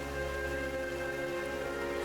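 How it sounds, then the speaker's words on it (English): Heavy rain falls in the video game Genshin Impact as a steady, dense hiss of downpour, with sustained tonal layers humming beneath it throughout. "The rain became heavier. Light rain soon growing to a downpour."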